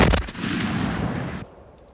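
A Civil War artillery cannon fires one loud, sharp blast that booms and rumbles for over a second before cutting off into quiet.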